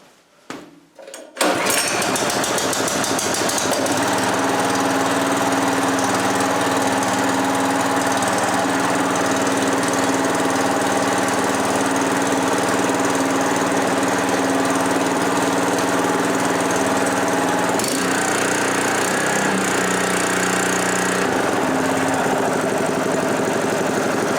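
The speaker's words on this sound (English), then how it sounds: "It runs quieter and smoother than the old engine." A cold Predator 224 6.6 HP gasoline engine on a wood chipper catches after a brief pull and settles into a steady, loud, buzzing idle that runs on continuously, with a slight change near the end.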